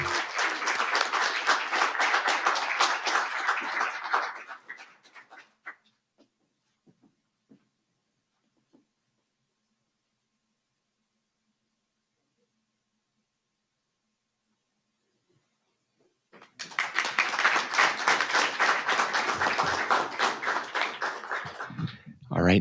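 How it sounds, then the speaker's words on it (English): Audience applause at a live state award ceremony honoring recipients of the Governor's Spirit award, loud sustained clapping for several seconds, then near silence, then a second loud burst of applause. "Please give a round of applause for Jill."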